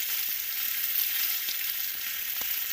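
Soy sauce hisses and sizzles on a hot griddle over garlic and ginger, a steady bright crackle with faint scraping of a spatula, close and continuous without speech.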